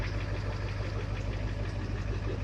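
Ford 7.3 IDI diesel truck engine running close up with a steady low rumble and diesel knock, held at a fairly even level throughout rather than rising and falling.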